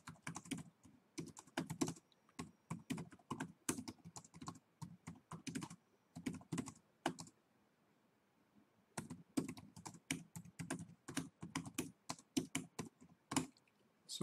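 Quick runs of keystrokes on a computer keyboard while a presentation is written, clicking in bursts with a brief pause midway, close and fairly quiet with no other sound.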